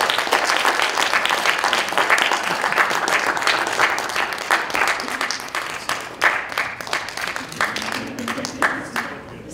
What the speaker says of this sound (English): let's welcome to the lectern for this invocation ceremony with a rousing round of applause for Mr. Robert.